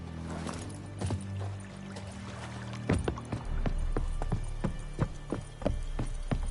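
Roach, the horse in The Witcher 3, trots along with a steady, fairly close clip-clop of hooves under a low, droning music bed.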